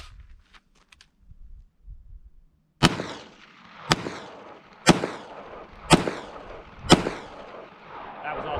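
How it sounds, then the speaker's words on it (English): Five suppressed supersonic gunshots from a rifle fitted with a JK Armament suppressor, fired into dirt outdoors, crack out loud and close at an even rhythm of about one per second, each followed by a short decaying echo, after a few quiet seconds of faint handling noise. "all I'm going to be doing is shooting out in the dirt so we don't get any noise from pickup of steel targets"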